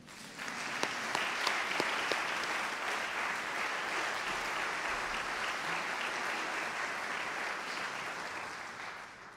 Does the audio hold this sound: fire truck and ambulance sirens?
no